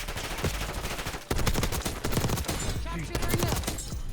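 Black Ops 6 multiplayer gunfire rattles in quick, close automatic bursts, loud and rapid throughout, with a brief gap before a heavier stretch of firing, mixed with other game sounds and a little talk.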